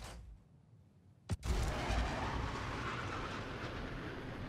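A missile launches with a sharp crack, then a loud sustained roaring rush of propulsion in the space flight game Star Citizen, after a quiet low rumble.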